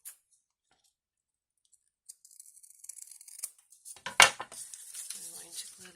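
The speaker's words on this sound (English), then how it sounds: "I'm going to cut off this end" Scissors snip off the end of a paper strip while making an Easter rosette wand, a short crisp cut with a few rustles and clicks of paper after a quiet start.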